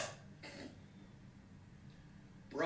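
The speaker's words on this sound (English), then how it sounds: "cough like an iPad kid" A couple of short, rough coughs, one near the start and another at the end, with quiet room noise between them.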